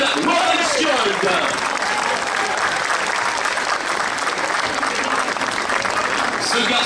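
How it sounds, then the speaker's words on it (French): Roadside crowd at a stage of the Étoile de Bessèges in Marguerittes applauds cyclist Søren Wærenskjold, a loud continuous wash of clapping with crowd noise, while an announcer's voice carries over it. "Vos applaudissements pour Søren Warenskjold."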